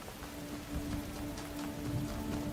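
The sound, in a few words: rain falling, video game The Talos Principle Reawakened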